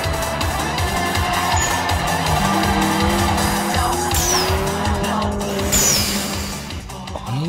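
Turbocharged Toyota AE86 engine racing in Assetto Corsa, a sustained loud engine drone with shifting pitch and sharp tire squeals as the car slides through corners.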